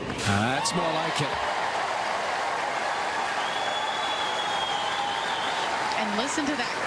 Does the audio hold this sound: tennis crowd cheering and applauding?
yes